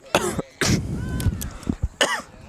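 A few harsh coughs or throat-clearing bursts at a high school field hockey game, close and loud, separated by short pauses, with quieter rumbling in between.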